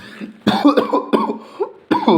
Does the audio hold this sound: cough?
yes